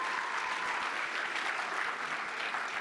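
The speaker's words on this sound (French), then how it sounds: "Encore l'applaudir bien fort." A dense, steady wave of audience applause fills a cosplay contest hall, many hands clapping together at constant loudness with no break and no talk.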